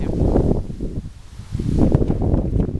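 Gusty wind buffets the microphone outdoors at a women's baseball game on a chilly evening, a steady low roar that dips briefly, then swells back strongly.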